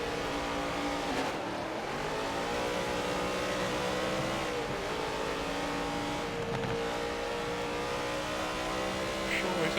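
GTE-class race cars in a racing video game at Silverstone, engines droning steadily with shifting revs throughout, loud and continuous, with faint speech underneath.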